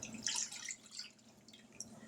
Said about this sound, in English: Now we're going to pour the juice and the the juice and the powdered pectin in.